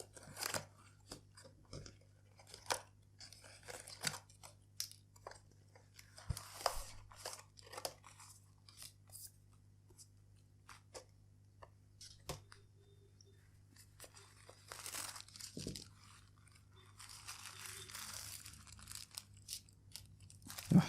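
A Boya BY-M1 lavalier microphone box being opened by hand, with quiet intermittent crinkling and rustling of packaging in short bursts. Faint, close handling noises come through without any speech.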